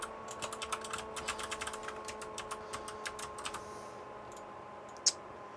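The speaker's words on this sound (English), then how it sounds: "Let me type this into my sheet." Typing on a computer keyboard, with rapid bursts of clicky keystrokes that slow and then stop, followed by one louder click, against a faint steady hum.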